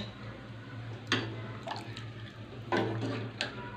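Water poured into a pan of chicken curry as it cooks, a few brief splashing pours and drips over a low steady hum, quiet apart from short louder bursts.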